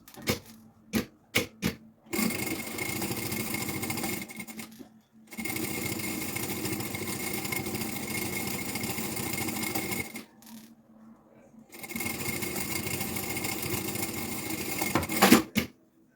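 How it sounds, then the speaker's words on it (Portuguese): A sewing machine stitching a seam through the lining of a preschool backpack, running in three long steady bursts of rapid mechanical whirring, with brief clicks and pauses between runs. "vou então passar uma costura à largura do calcador"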